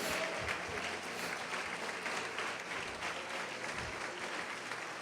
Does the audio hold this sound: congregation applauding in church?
yes